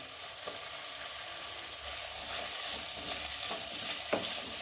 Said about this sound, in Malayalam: സവാള, ഇഞ്ചിയും വെളുത്തുള്ളിയൊക്കെ നല്ലതുപോലെ ഒന്ന് വഴന്നു വരട്ടെ